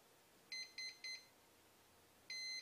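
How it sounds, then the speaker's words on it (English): An RC electronic speed controller in a FlySky-controlled six-servo park jet beeps on being plugged in: three short high beeps in quick succession, a pause, then one longer beep, faint and alone. "two beeps."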